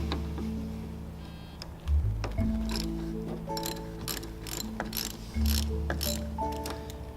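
A ratchet wrench clicks in short bursts while loosening the 10mm nut on a car battery's negative terminal, a close, rhythmic pawl ratcheting with some metallic thumps under background music.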